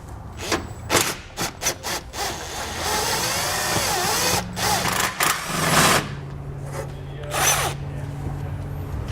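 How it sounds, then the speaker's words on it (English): Socket wrench backing nuts off a canister on the frame of a 2015 Jeep Patriot, ratcheting and whirring in short close bursts with metallic scrapes and pauses. "I'm going to be using a 10mm socket to pull those nuts out."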